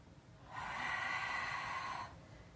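Deep, steady breath during a Pilates abdominal workout class, one long airy exhale lasting about a second and a half, close and fairly soft, with no talking over it.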